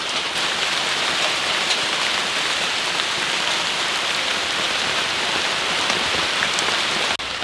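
Heavy tropical downpour in the Philippines near a mountain waterfall, dense steady hiss of rain on surfaces, loud and unbroken throughout with no talk.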